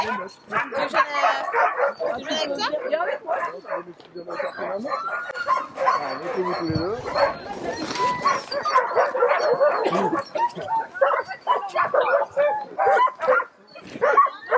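Several dogs yip, bark and whimper in excited bursts at feeding time as bowls are set out for each, close and lively, with people talking throughout.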